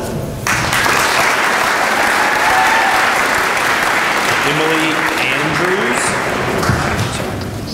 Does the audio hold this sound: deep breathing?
no